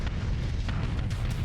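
Cannon fire and explosions rumble continuously in a Starsector space battle, a dense, loud low-end roar of booming impacts with occasional sharper bursts and no pauses.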